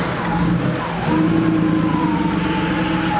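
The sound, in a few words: Porsche 3.2 Carrera engine starting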